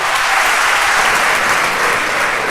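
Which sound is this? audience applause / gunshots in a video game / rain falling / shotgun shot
audience applause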